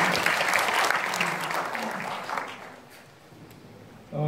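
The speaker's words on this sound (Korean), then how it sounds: "그럼 이것도 박수로 통과시키겠습니다." Audience applause approving a motion at the founding assembly of a regional labor human-rights center, dense clapping that tapers off over a few seconds before a brief sound at the end.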